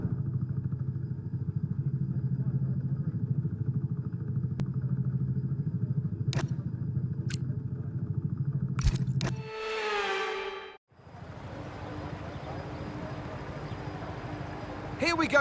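F1 cars on a formation lap before a sprint race in the racing game F1 26, heard as a steady low engine drone with a few clicks, then a brief sweeping tone and softer engine sound afterward.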